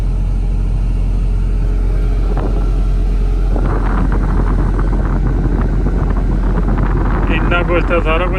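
A combine harvester's heavy engine drones steadily while harvesting maize, with broadband mechanical rumble and wind buffeting, growing rougher and louder partway through as machinery works nearby.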